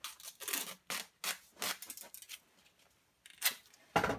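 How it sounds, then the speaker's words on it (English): Duct tape being pulled and pressed onto a snow shovel wear strip: a series of short ripping, crinkling bursts in quick irregular succession, fairly close and moderately quiet, with a brief pause before a final few tears. "I'm going to put some duct tape on them."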